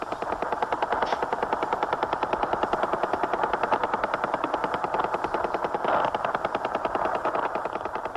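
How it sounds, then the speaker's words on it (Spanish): A powerful Russian radar signal received on shortwave radio makes a steady, rapid pulsing rattle, like fast mechanical knocking over a constant noisy hiss. It is loud and unbroken throughout, with no voices. "resulta ser una señal de radar muy poderosa que permite detectar cualquier intruso todavía a grandes distancias de las fronteras rusas"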